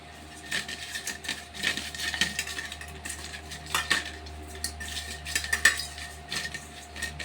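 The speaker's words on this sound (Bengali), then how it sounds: "এখানে অল্প করে নুন আর অল্প হলুদ মিশিয়ে নিচ্ছি।" Hilsa fish being mixed by hand with salt and turmeric in a bowl: steady soft clinks and scrapes against the dish, with a few sharper ticks, close and moderately loud, no voices.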